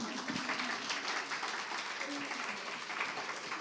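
An audience at a fashion talk event claps in a dense, continuous patter, moderately faint, with a voice speaking over it.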